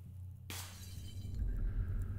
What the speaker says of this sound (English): Glass shattering.